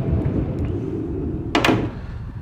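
Sliding side door of a Mercedes-Benz Sprinter 317CDI van, a single short rolling clunk as the door slides and latches, heard close and fairly loud over a low background hum.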